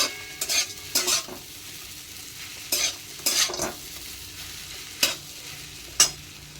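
Sabudana khichdi with peanuts, ginger and chilli sizzles in ghee while a utensil scrapes and stirs the pan in short bursts, several distinct strokes over a soft, constant frying hiss.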